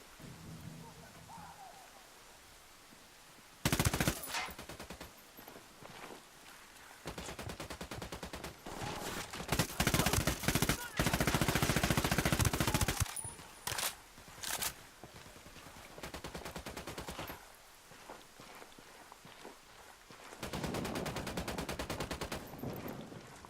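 In the shooter game Ghost Recon Wildlands, loud bursts of automatic gunfire come and go in dense, crackling stretches several seconds long, separated by quieter rumbling gaps.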